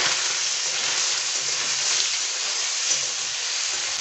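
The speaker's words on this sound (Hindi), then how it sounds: "अभी इसको ब्राउन होने तक फ्राई कर लेंगे।" Paneer frying in refined oil in a kadai gives a steady, close, even sizzle with soft crackle throughout, no voices.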